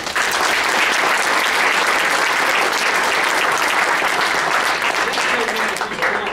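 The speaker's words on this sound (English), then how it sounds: "Just want to give a good round of applause for them again." Audience at a school district board meeting giving a warm round of applause, dense steady clapping filling the room from start to finish, with a little voice mixed in.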